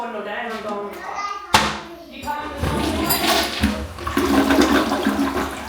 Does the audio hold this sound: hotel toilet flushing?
yes